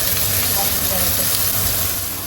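Onions hit hot oil already holding chana dal, fennel seeds, urad dal and fenugreek, giving a loud, dense, continuous sizzle and hiss up close.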